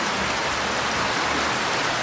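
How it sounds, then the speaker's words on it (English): Steady rain pattering down around a hummingbird on its perch, a continuous soft hiss of drops with no voices. "I'm definitely getting raindrops on the bird"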